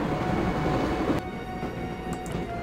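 A train rumbles along in the adventure game Broken Sword: Shadow of the Templars, a loud, steady rolling roar with rattling carriage noise that drops slightly in level partway through.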